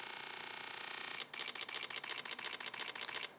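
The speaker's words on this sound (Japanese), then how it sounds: "一回シャッターを押してみましょう。" A Sony α7 V camera fires a burst of shutter releases: a steady high whir, then a rapid, even train of crisp mechanical clicks that runs on for about two seconds, close and clear with no voices.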